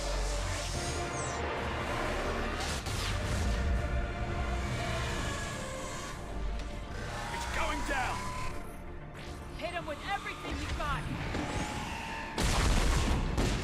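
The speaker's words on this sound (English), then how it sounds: "Yay! Explosions!" Rapid bursts of explosions and gunfire in the Mass Effect 3 video game, loud rumbling blasts and crashes overlapping one another throughout, with in-game voices and players talking over the din.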